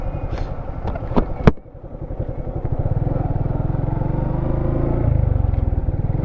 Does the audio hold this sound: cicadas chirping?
no